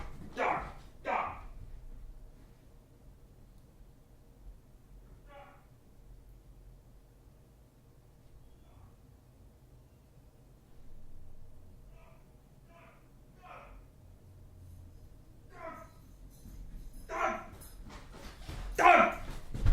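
A happy puppy gives scattered whimpers, yips and short barks, sometimes in quick pairs, over a quiet background, with a person's voice talking to it now and then.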